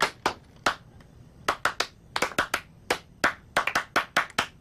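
A few people clap their hands at home after a meal, producing sparse, uneven, crisp claps in irregular bursts that sound close, with no talking.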